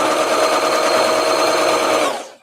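A sewing machine runs a close, tight stitch on doll dress fabric, with a loud, steady, rapid mechanical whir heard up close before it stops abruptly.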